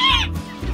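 A white rooster at a poultry breeding farm gives a short, close cluck, with a brief nasal squawk at the start and low throaty sounds after.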